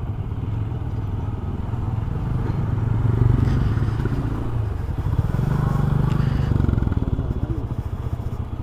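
A motorcycle rumbles steadily on a mountain road from Siliguri toward Gangtok, its low engine drone rising and falling slightly with faint rattles and road clatter, heard close as if from the rider's position.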